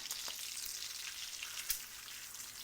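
Bacon sizzles and crackles in a cast iron pan, a steady close hiss of popping grease with one sharper pop near the end, no voices.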